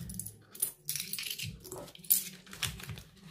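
Banknotes and coins being tucked into a paper budget envelope, with soft rustling and a few light metallic clinks close by in a quiet room.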